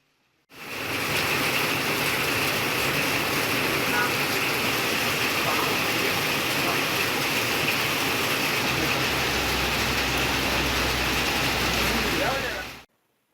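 Steady drizzling rain over Kodaikanal and its surroundings, a continuous broadband hiss of light rainfall heard throughout at even loudness, with no voices.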